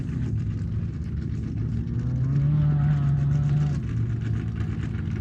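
An off-road race vehicle's engine drones steadily as it drives through a corner at an off-road race, a sustained rumbling hum with a rising tone in the middle, heard from a distance.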